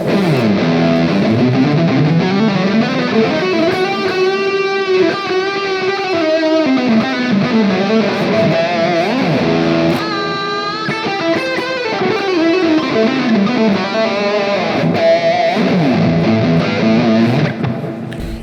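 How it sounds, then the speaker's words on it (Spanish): Electric guitar played through a distortion effect, loud sustained chords and bending melodic lines with thick harmonic grit, continuous for the whole stretch and without speech. "vamos a utilizar un poquito de distorsión para ejemplificar algunas cosas"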